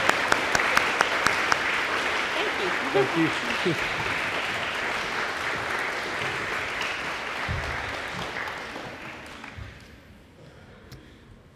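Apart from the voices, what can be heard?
audience applause at graduation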